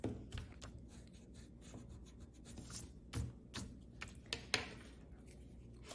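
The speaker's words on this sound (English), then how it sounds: "I'm going to erase this." A pencil drawing for a Valentine's art piece is rubbed with an eraser, soft scratchy strokes repeating close up in an irregular rhythm with a few sharper taps, quiet and without talk.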